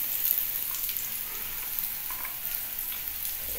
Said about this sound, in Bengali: পেঁয়াজটা লাল হলে কি হবে, পটলটাও সঙ্গে সঙ্গে ভাজা হয়ে যাবে।